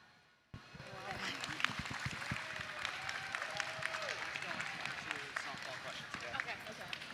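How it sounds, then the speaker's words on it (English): An audience applauds a culinary student team after their national runner-up presentation, with dense clapping and cheering that carries steadily throughout, along with crowd noise and a few voices. "Let's give it one more round of applause for this awesome team."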